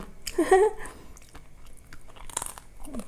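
Crunchy fresh vegetables are bitten and chewed close up, with loud crisp crunches at first and then quieter, irregular chewing. A brief vocal sound is heard near the end.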